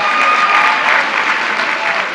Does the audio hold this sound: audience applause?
yes